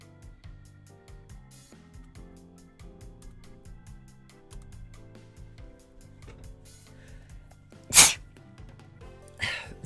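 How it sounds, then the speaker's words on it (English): A single sharp sneeze bursts out near the end, loud and close, over steady quiet background music during a casual livestream chat about a trip to Japan. "I don't like sneezing as a VTuber."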